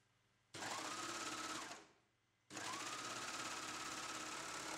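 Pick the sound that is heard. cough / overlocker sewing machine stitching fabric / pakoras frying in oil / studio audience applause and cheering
overlocker sewing machine stitching fabric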